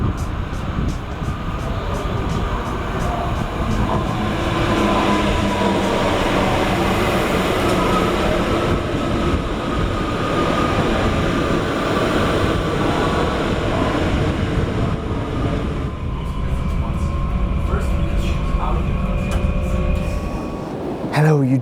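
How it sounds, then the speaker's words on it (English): Steady rumble and rolling clatter from inside an NS SLT Sprinter commuter train running through the Netherlands, loud and continuous for the whole stretch, with a brief shift in tone near the end. "now it's time to go on the last NS train which I need in today's video, which is the SLT Sprinter train."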